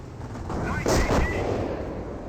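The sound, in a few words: booby trap explosion in Company of Heroes video game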